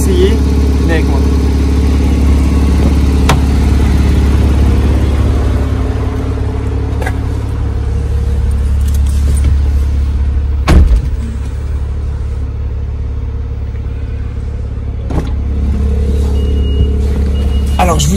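Inside a Porsche 991 Targa 4 GTS, the engine holds a steady low drone with faint clicks and rustles, and a voice speaks at times over it.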